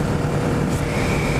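A Kawasaki Ninja 400 KRT motorcycle creeps slowly through town, its engine a steady low hum with a faint whine, close and continuous throughout without talk.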